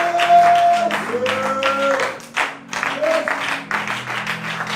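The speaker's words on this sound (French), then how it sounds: "Est-ce que tu peux commencer par acclamer le Seigneur Jésus-Christ de là où tu te trouves?" A congregation at a prayer and deliverance service cheers and claps in bursts, mixed with loud sustained voices calling out over the crowd noise.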